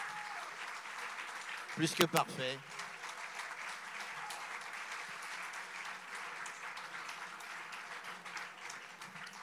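An audience at a talk claps in sustained applause that fills the room, moderately distant and even, after a brief close voice and a few sharp sounds near the start.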